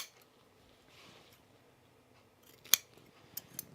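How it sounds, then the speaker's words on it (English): Scissors trimming fabric on a pair of trousers: quiet rustling, then a few crisp, close snips spaced apart near the end, no talk. "I'm going to trim around here"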